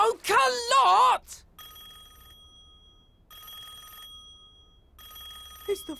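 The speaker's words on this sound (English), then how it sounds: "It's the phone." A cartoon telephone rings in bursts of electronic trilling, three separate rings with short pauses between, following an excited shout at the start.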